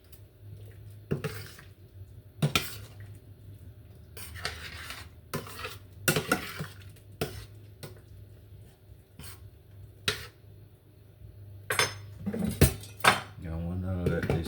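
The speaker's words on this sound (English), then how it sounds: "Give this a stir, you know. I'm gonna mix everything in properly." Jamaican bean stew being stirred in a pot, with repeated sharp spoon knocks and scrapes against the metal at an irregular pace, close and clear over a low background hum.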